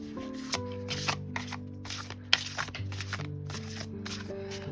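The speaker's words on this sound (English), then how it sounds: "this is one deck that I sometimes will shuffle like this if I'm doing a fast shuffle" A tarot deck given a fast shuffle, with repeated crisp riffling bursts at a steady pace, close up and loud over a low sustained musical drone, with no talking.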